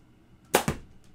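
Two sharp pops in quick succession, close and loud, against a quiet background, from a toy foam dart blaster firing twice.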